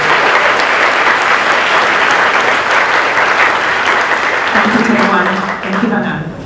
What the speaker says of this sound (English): So, big round of applause for us too.